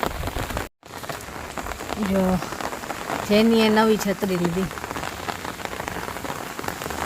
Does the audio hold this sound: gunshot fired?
no